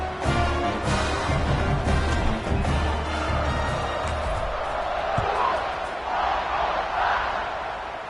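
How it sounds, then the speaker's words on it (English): Dense stadium crowd at a college football game, a loud continuous roar and buzz swelling around a kickoff, with a commentator talking over it. "this crowd is buzzing after that last score"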